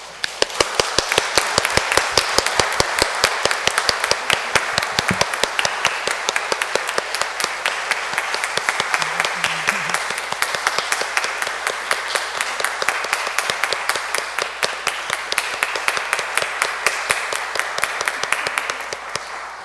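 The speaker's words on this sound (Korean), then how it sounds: "큰 박수로 환영해 주세요" Rhythmic clapping in unison from a congregation at a youth Sunday Mass during a farewell ceremony for a departing priest, with sharp regular beats continuing steadily for a long stretch while flowers and gifts are presented.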